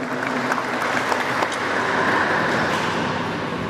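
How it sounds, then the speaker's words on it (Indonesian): Audience applause at the Gayo coffee festival, Festival Kopi Gayo 2015, in Bener Meriah: a steady, dense wash of clapping from a crowd that holds level throughout, fairly loud and with no voices over it. "Tepuk tangan untuk kegiatan ini"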